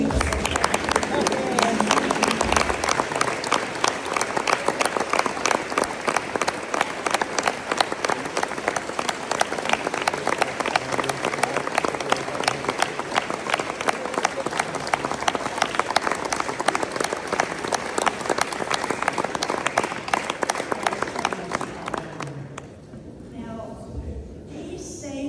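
Sustained applause from an audience at a Gold-Headed Cane award ceremony honoring past recipients, a dense steady roar of many hands clapping that carries on for over twenty seconds before tapering off near the end.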